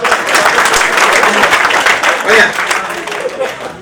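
An audience at a Hindi comic poetry recital claps loudly for a few seconds, a close, dense burst of applause with some voices mixed in.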